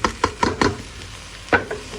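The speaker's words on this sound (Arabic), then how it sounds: "انزل بقى عليها بالرز المغسول" Washed rice tipped into a pot of hot oil with melted mastic, giving a few brief clattering, sizzling bursts near the start and another toward the end, up close with no voices.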